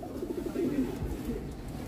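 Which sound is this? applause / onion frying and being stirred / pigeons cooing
pigeons cooing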